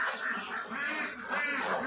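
Farm ducks of mixed ages, shedding their feathers, give a rapid run of nasal quacks, close and fairly loud, overlapping with one another.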